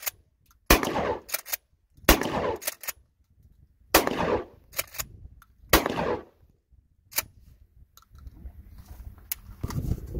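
Shotgun blasts aimed at plate targets and a bucket, a series of sharp, loud single shots spaced a second or two apart, each with a short ringing decay, followed by quieter handling noise.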